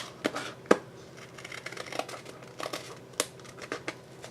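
Scissors trimming paper for a mini album page, several crisp snips and rustling crinkles spread across the stretch at close range, with no talking.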